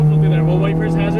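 A Ferrari F430 engine is held under throttle on a track exit, a loud, steady, close-miked tone that fills the whole moment, with a voice talking over it.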